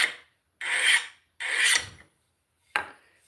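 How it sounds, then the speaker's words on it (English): A double cut bastard file rasps across tomahawk steel to remove a burr, three long strokes followed by a short fourth, each a harsh scraping rasp separated by silence. "I'm just going to take this double cut bastard file right"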